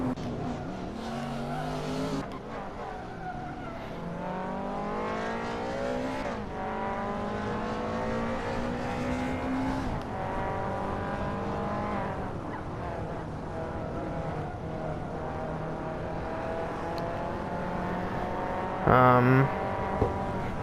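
Race cars in a Hot Wheels video game whine with steadily rising and falling engine pitch, loud and continuous throughout, with a brief sharp burst near the end.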